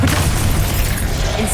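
The Revelio spell cast in the Hogwarts Legacy video game gives a short, loud, booming magical burst.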